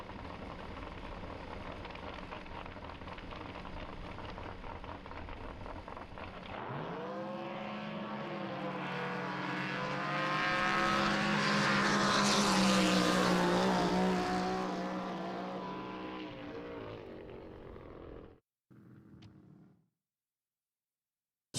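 A Pro Comp hydroplane race boat, number 470 with a Curtis Dart Chevy engine, runs a qualifying course at Livermore, California, a loud engine roar building from quiet, peaking mid-pass and fading away before cutting off.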